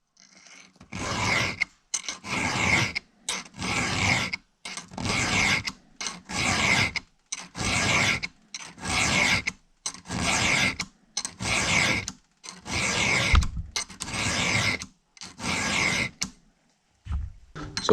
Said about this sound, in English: So as you're pushing the file through the tooth, you've got to hold the file on the right angle